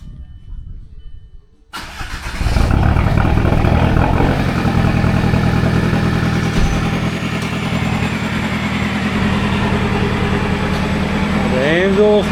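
A Volkswagen Jetta, just back from a transmission repair, cranks briefly after a quiet moment and catches, settling into a loud, steady idle close by.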